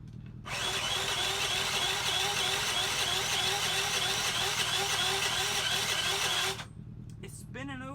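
A cheap junk moped's engine is cranked with the electric starter in one long, close whirring grind lasting about six seconds without firing, then drops off to a low hum.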